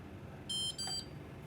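A Whirlpool dishwasher's control panel beeps as a button is pressed: two short, close electronic tones in quick succession in an otherwise quiet room.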